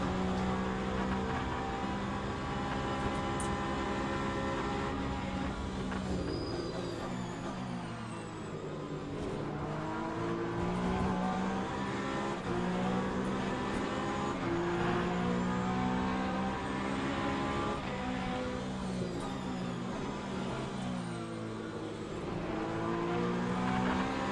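Lamborghini race cars drive on a racing game circuit, engines droning steadily with rising and falling revs as gears shift, loud and continuous throughout, no talk.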